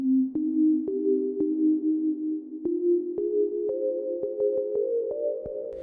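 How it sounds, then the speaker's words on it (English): Tonal synth notes step slowly upward, each with a sharp click at its start and a washy reverb tail blending into the next. "let's add a reverb directly on top of that sound"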